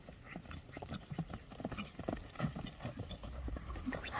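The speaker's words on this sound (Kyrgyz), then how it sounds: "Сулуу ат экен, өтө." A Karabair horse's hooves clip-clopping in a quick irregular rhythm, faint and fairly close, with light background noise and occasional voices.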